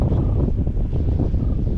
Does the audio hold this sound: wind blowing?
yes